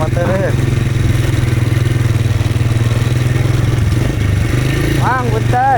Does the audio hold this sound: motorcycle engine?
yes